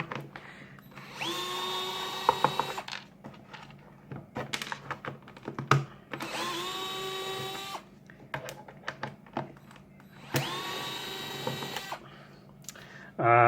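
A cordless drill whirs in three separate bursts, each rising in pitch as screws spin out of a space heater, with clicks, clunks and handling noise between them.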